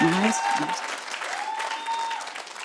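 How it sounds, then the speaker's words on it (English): Stand-up comedy audience in a club breaks into sustained clapping, loud and steady for the whole stretch, with a few whistles and cheers rising above the applause. "Clap if you're 50 and up."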